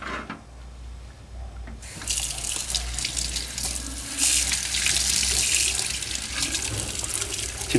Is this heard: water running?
yes